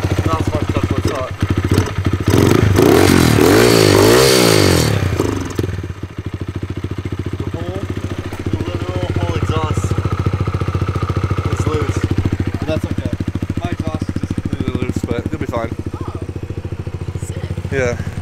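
A dirt bike engine runs roughly nearby, a loud revving burst at first, then a sputtering, uneven idle that keeps going underneath people talking.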